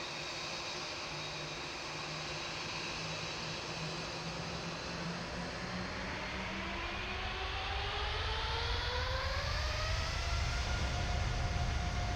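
Airliner jet engines spooling up on takeoff for the San Francisco to Amsterdam flight, a loud, steady broadband roar with whining tones climbing in pitch as thrust builds, heard from inside the cabin with no talk.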